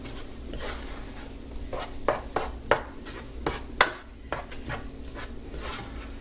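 Cumin and garlic powder being stirred into a chili dip, with a run of distinct scraping strokes and a few sharper utensil knocks against the bowl over a steady low hum.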